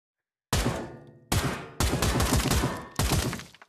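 Four separate bursts of rapid gunfire in Pavlov, a shooting game, each loud and close with sharp onsets, fired at a light after a brief silence, with no talking.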